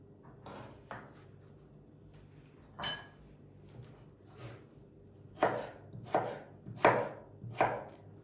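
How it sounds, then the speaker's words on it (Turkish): Light irregular knife taps on a board give way to four louder, evenly spaced chops near the end, as potatoes are diced into small cubes up close. "Kare kare olacak küçük küçük."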